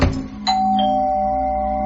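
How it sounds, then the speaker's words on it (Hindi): A doorbell chime rings out in a Hindi radio horror drama, a two-tone electronic ding-dong with sustained ringing tones that hold steadily, close and clear with no talk over it. "तो डोरबेल बजी।"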